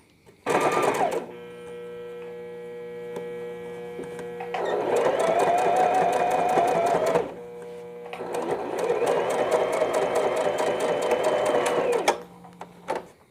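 Sewing machine stitching openings on a smocking frock, running in three steady bursts of fast mechanical whirring and needle ticking with short pauses between, close up and loud, no talk over it.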